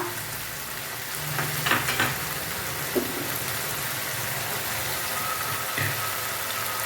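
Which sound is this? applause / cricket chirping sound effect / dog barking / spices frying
spices frying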